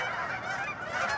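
A large flock of migrating geese on a pond honks continuously, many overlapping calls forming a dense, loud clamor with no pauses.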